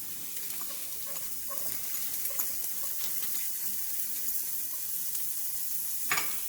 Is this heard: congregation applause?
no